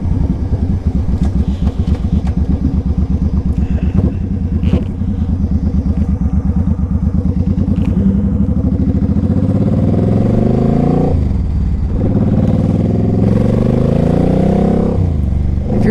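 A 2006 Suzuki Boulevard C50T cruiser motorcycle riding along, its engine thrumming loud and close with a steady low pulsing note and rising revs, plus wind rush toward the end.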